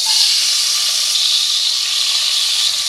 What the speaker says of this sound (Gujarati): હવે પલાળેલા મગને પાણીમાંથી નિતારી અને તેલના વઘારમાં ઉમેરી દેવાના છે.